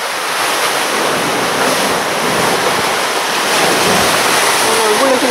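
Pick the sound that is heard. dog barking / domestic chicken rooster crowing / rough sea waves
rough sea waves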